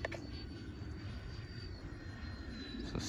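A Freewing 80mm A-10 RC jet on its maiden flight gives a steady, loud whine of ducted fans running continuously throughout, with no talk.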